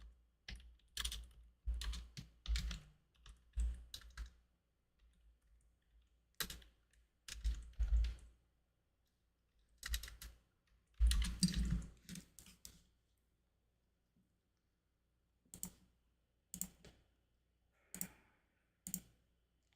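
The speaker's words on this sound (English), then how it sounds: "go ahead and type the address" Typing on a computer keyboard to enter an address, bursts of quick clicking keystrokes separated by pauses of silence, close and fairly quiet.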